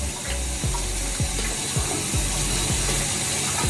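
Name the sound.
tap running water onto a shirt to soak it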